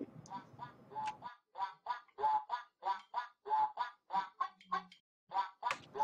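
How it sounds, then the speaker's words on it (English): Ducks quacking in a steady run of loud, close, repeated calls, at a sports match on a beach in Myrtle Beach. "I hope everyone likes the ducks."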